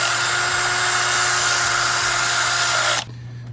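A letter O drill bit is run through a Ford Model A steering column part with a steady high-pitched whine, loud and close for three seconds before stopping abruptly.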